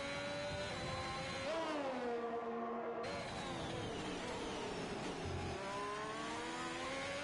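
A Haas Formula 1 car in the F1 2021 game at the Chinese circuit, its high-pitched engine whining steadily, with the pitch dropping as it passes and then climbing again through the gears.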